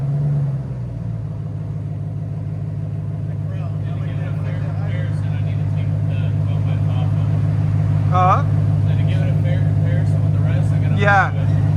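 A Ram TRX truck idles with a deep, steady exhaust rumble close by, while people talk briefly over it.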